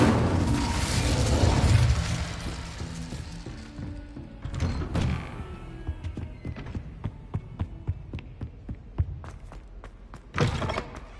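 An Incendio fire spell is cast in a Harry Potter video game, opening with a loud, roaring burst of flame that fades into a scattered series of dull thuds and knocks, with another short sharp burst near the end.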